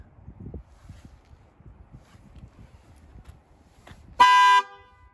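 An Alfa Romeo Giulia immobilizer's tilt alarm trips with a single short, loud, sharp horn-like blast after a stretch of faint wind and handling noise, close by, with no talking.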